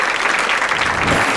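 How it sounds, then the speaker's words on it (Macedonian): Studio audience applause on the Macedonian TV show Еден на Еден, a loud, dense wash of many clapping hands sustained evenly from start to finish with no talk over it. "Аплауз."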